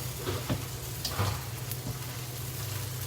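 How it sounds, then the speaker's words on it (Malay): Beef frying in a pan with large onions just added, a soft continuous sizzle with a few faint stirring scrapes, quiet and close with no talking. "Bila kita nampak daging dah ada warna garing-garing kan, baru kita masukkan bawang besar."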